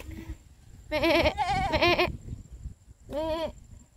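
A goat bleats close by in a backyard garden, two quick wavering calls back to back and then a third after a short pause, loud and clear over quiet rustling.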